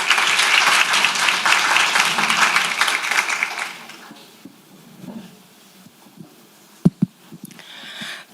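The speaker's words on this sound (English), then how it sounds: "Please give a big hand of applause for welcoming our session chairs." Audience applause welcoming session chairs at an academic symposium, a loud, full clapping crowd that fades out after about four seconds, leaving quiet room noise and a few thumps.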